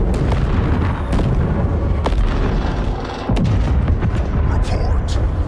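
Overloaded engine blowing up in the Halo Infinite video game, a dense, loud and continuous rumbling roar with heavy low booms carrying through the whole stretch, a brief dip partway through, and a voice speaking over it.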